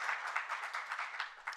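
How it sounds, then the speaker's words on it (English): Audience applause at a lifelong learning short programmes session, a steady, even wash of many hands clapping at low level with no voices. "give yourselves a round of applause for setting up the time to join us today"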